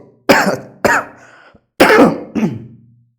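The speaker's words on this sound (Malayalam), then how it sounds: "ചെറിയ ചുമയൊക്കെ ഉണ്ടോന്ന് ക്ഷമിക്കണം കേട്ടോ" Four short, sharp coughs close to the microphone, spaced by brief pauses, each a throaty burst that trails off.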